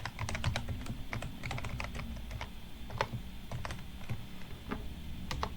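Commands being typed on a computer keyboard: quick, irregular key clicks, close and clear, in uneven bursts with short pauses, alone without talk over a faint steady hum.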